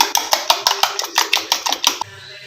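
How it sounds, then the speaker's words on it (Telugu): An egg mixture for an eggplant omelette is beaten briskly, with a rapid, even run of about a dozen close utensil clinks against the bowl before the strokes stop. "అండ్ ఇప్పుడు దీన్ని ఇలా బీట్ చేసుకోవాలి బాగా"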